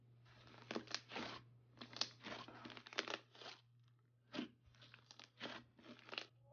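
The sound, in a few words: crunchy Electric Kiwi slime by Dope Slimes being squished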